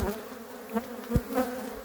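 Honeybees hum around their queen in a soft, continuous drone close by, with small rises and flickers of buzzing as they move about.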